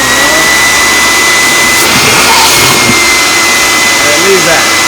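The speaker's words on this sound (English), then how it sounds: "you take and you turn your vacuum cleaner on." A vacuum cleaner runs loudly and steadily while scallops are cleaned by sucking out the meat left on the shell, with a sustained roaring whine and faint voices in the background.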